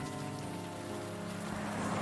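Steady rain pours in the video game Unavowed, a continuous close hiss of drops on hard surfaces that swells slightly toward the end, with no voices.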